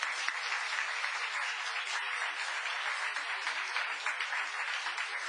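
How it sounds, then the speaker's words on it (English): Steady applause for the council at a town council meeting, thin and distant-sounding with no low end, continuous even clapping throughout. "Council, stand and take some applause"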